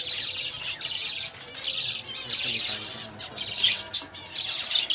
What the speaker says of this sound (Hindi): छोटे छोटे तोतों को हम अलग कर रहे हैं